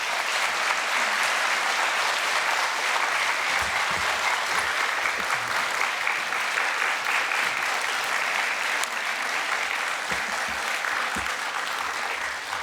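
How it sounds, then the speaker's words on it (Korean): A church congregation at a Sunday worship service welcomes the pastor to the pulpit with a big, dense round of applause that holds steady and full throughout, without speech. "목사님 나오실 때 사랑과 감사의 마음을 담아서 큰 박수로"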